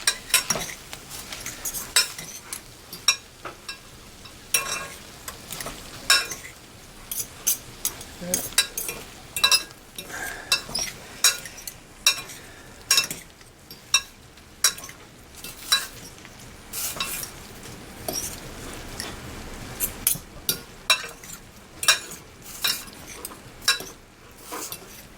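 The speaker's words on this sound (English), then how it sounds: "we're going to toss that until the butter is melted" Canned green beans tossed with melting butter in a pan, with a spoon scraping and clinking against the cookware in frequent sharp strokes over a faint sizzle, close and fairly loud.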